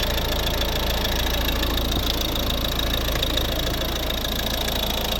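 A 1.6-litre D2 diesel engine in a 2011 Volvo V50 idles loudly and continuously, with a steady rumbling, knocking chug throughout and no voices.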